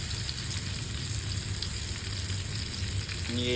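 Mackerel (bangude) frying in a pan makes a constant close sizzle with faint crackles, steady throughout and free of any talking.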